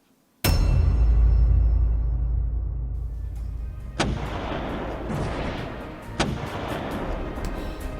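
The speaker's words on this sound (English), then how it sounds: "there is only 3 cannon shots this time" Three cannon shots sound in a Hunger Games simulator video game: a loud, booming first blast followed by two more evenly spaced shots that trail off into a lingering rumble.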